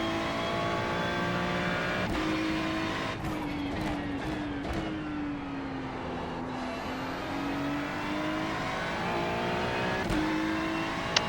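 GT race car engine in the iRacing sim at Mount Panorama, a loud sustained roar with repeated upshifts and long pulls of rising pitch, holding close and steady throughout.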